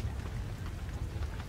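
Rain falling in a Roblox game, a short, dense hiss of steady drops with a heavier low rumble beneath, no voices.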